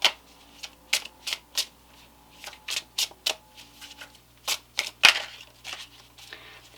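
A Tarot of Sexual Magic card deck is shuffled close up in a series of quick, crisp riffling bursts with short pauses between them.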